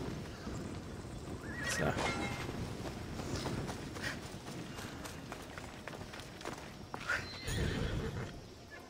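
A horse in the video game Assassin's Creed Odyssey whinnies loudly near the start and again toward the end, with hooves clattering in a running rhythm between; one brief spoken word.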